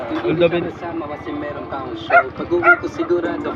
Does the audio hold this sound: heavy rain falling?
no